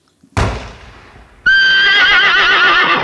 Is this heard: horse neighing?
yes